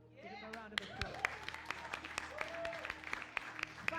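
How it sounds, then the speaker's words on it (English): Applause for Tony at Chapel FM during a music fundraiser event: scattered, fairly close hand claps from a small group, with voices and cheering mixed in and a faint musical tone beneath. "Give him a round of applause"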